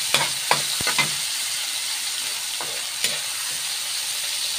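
Tomatoes sautéing in a pan for a sardine stir-fry, a constant close hiss of sizzling oil with a few light clinks of a utensil near the start.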